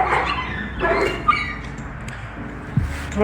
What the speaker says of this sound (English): that was the mama dog barking at her puppies